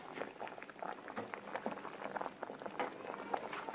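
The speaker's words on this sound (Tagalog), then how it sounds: "Kita nyo, kumukulo na." Sinigang na bangus soup boils in a pot, a steady close bubbling and popping with dense small crackles running continuously throughout at a soft level, no talk.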